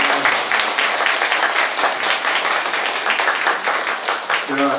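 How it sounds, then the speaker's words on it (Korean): Broad, dense clapping from a studio audience at a public broadcast recording, steady for several seconds and fairly loud, with no other voices standing out. "박수 한번 주십시오."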